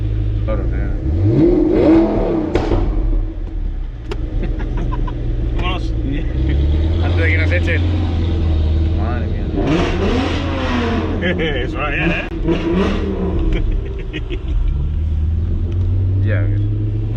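Audi R8 engine revving in rising and falling bursts, a loud low rumble that swells twice, with people talking over it throughout.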